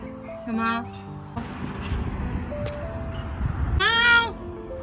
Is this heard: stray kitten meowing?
yes